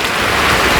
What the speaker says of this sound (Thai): ฝนตกแต่เช้าบนมือเลยพี่น้องเอ้ย